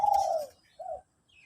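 A single pet songbird call, two months after moulting, a bright descending whistle followed by a shorter softer note, close by and alone against quiet.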